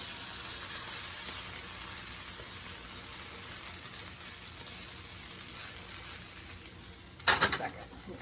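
Spam kimchi fried rice sizzles steadily in a hot pan, a constant close hiss and crackle, with a short louder scrape-and-sizzle burst near the end as it gets stirred, no speech.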